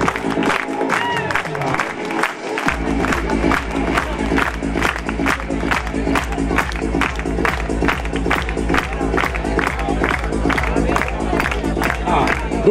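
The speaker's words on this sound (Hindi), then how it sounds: "आप जरा तालियां ही बजाते रहो, अच्छा लगेगा।" Rhythmic audience clapping in unison at a school farewell event, steady beats repeating evenly throughout with a background hum, after a few seconds of voices at the start.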